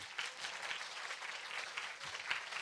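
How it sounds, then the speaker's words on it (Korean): Audience applause fills a college major information session for human services programs, a steady wash of clapping from a seated crowd that holds evenly for several seconds without talk. "실제 전공 설명회를 우리가 힘찬 박수와 함께 시작하도록 하겠습니다"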